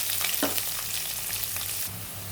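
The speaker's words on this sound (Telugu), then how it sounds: "ఇదండి ఉల్లిపాయలు కొంచెం వేగేవి." Sliced onions frying in hot oil with mustard seeds and cumin, a close, loud, steady crackling sizzle with a brief stirring scrape early on, no voices.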